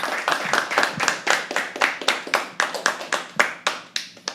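Rhythmic unison clapping from an audience at a live poetry open mic, steady evenly spaced claps about four per second, close and fairly loud, with no talking.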